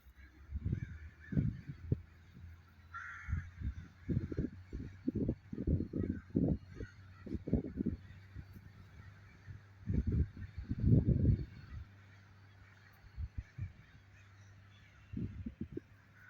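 Crows call around a college campus, a long series of harsh caws and honking cries in irregular bursts, moderately loud and slightly distant, with quiet gaps between groups over a low steady hum.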